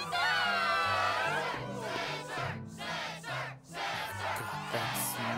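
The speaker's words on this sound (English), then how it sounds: "Yes, the crowd is fired up" A crowd in Kingdom Hearts 2 cheers loudly at a struggle tournament, with rhythmic shouted chanting that rises and falls across several seconds.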